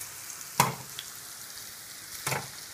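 White sesame seeds dry roast in a pan, a quiet, continuous crackle broken by two brief scraping stirs about two seconds apart.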